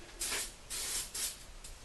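Four quick hissing bursts from a glass cleaner spray bottle, close up, in an uneven rhythm, the last one shorter and fainter.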